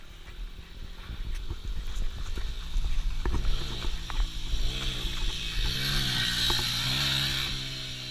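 A slow dirt bike engine revved hard and held at high RPM on a trail ride, a continuous, rough, loud mechanical drone with wavering pitch and gritty outdoor noise throughout.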